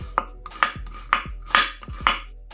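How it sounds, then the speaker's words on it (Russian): Five crisp knife chops slice a red onion into half-rings on a cutting board at a steady rhythm, each a sharp thud with a brief slicing rasp, close and clear. "2 красных луковицы среднего размера разрезаем пополам и нарезаем полукольцами."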